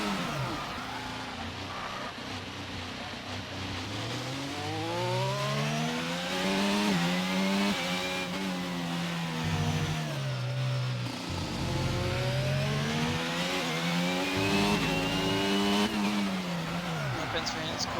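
A race car in a racing game at the Circuit of the Americas revs hard while spinning donuts, its engine pitch sweeping up and down in repeated rising and falling waves, loud and close, with a commentator talking over it.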